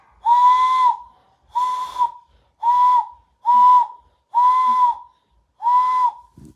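Hand whistle blown through cupped hands imitating an owl hoot, six loud, breathy, hollow tones of about half a second each, evenly spaced with short pauses, close and alone.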